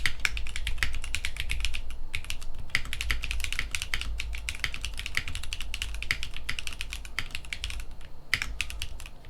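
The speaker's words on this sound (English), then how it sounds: "Last but not least, we have the Tofu switches." Typing on a mechanical keyboard fitted with Tofu full nylon switches, a fast, steady patter of close clacky keystrokes with short pauses, alone and fairly quiet.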